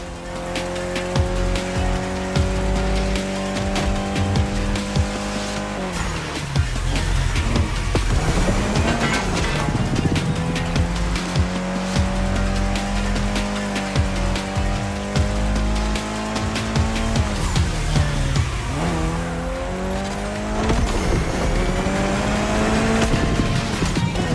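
A Mitsubishi Lancer Evo X races in The Crew Motorfest, its engine climbing through repeated high revs with sharp drops at gear shifts, tires squealing and skidding in loud, continuous driving.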